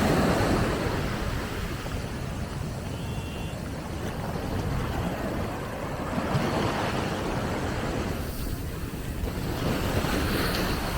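Ocean waves break on Ipanema beach in Rio de Janeiro, a loud, continuous wash of surf mixed with gusty wind noise, with the roar swelling again near the end.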